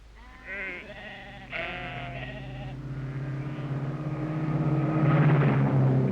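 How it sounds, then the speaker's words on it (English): Sheep flock bleating repeatedly in the background of a sunny Greek olive grove, with a continuous engine drone building louder beneath the calls. "On the Olympian heights, the flocks are grazing"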